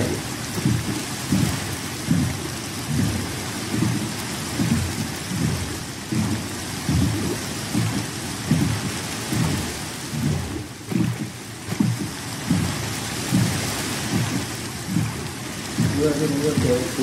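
Steady rain with rumbling thunder from a video game storm, a continuous wash of rainfall with repeated low rolls of thunder, while someone talks over it throughout.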